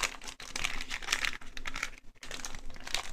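Packaging of a miniature resin DIY food kit being torn open, steady close crinkling and ripping of plastic with brief pauses, loud and without speech.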